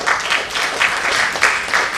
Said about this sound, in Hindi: इनके लिए जरूर तालियां बजाइए आप लोग।